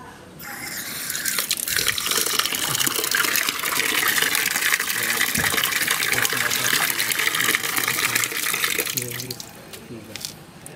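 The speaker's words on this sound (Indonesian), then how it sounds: "Semakin lama keran dibuka, semakin banyak air yang mengisi ember." Water gushes from an open tap into a bucket, a loud, steady splashing rush that starts abruptly, holds for about nine seconds, then tapers off as the flow is cut.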